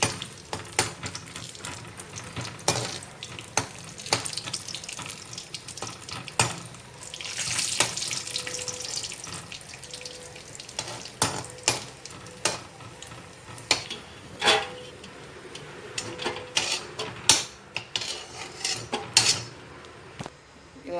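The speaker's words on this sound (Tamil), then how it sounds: "முந்திரி திராட்சை இதில் போட்டு வறுத்து எடுத்துக்கலாம். நல்லா பொன்னிறமாக வறுத்து எடுத்துக்கலாம்." Cashews and raisins frying in hot ghee for banana halwa, a continuous close sizzle punctuated by repeated spoon scrapes and clinks against the pan.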